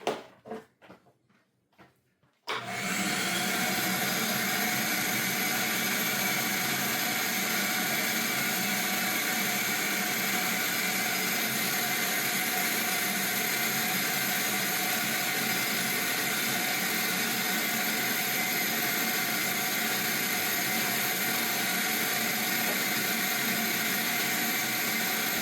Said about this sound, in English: let's get busy and get the vacuum out